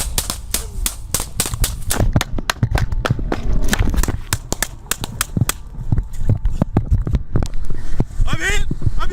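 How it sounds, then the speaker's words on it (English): Gunshots ring out as a suspect fires at a police trooper: a rapid run of sharp, loud cracks amid shouting voices and commotion. "then swung around and started shooting at the trooper"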